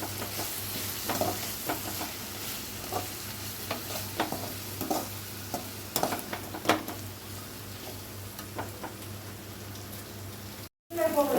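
Onion, tomato, ginger-garlic paste and masala powder are stirred in a sizzling pan for cauliflower poriyal, with repeated scraping strokes and clicks over a steady fry, close up, and a brief gap near the end.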